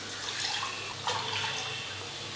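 Water is poured from a glass into a cooking pot for millet upma, a soft, steady splashing trickle with small drips, faint and close, with no talk over it.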